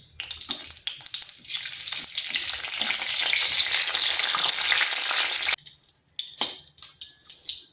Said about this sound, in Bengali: ফোড়নে দিচ্ছি একটা তেজপাতা, একটা শুকনো লঙ্কা আর দিচ্ছি গোটা গরম মশলা, 2 টুকরো দারচিনি, 2টো এলাচ আর 2 থেকে 3টে লং।